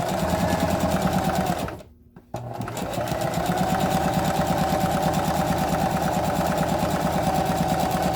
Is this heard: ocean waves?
no